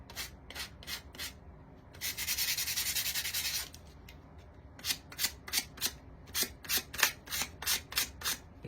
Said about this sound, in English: You can sand his mouth a little more if you want to give it a little more worn look.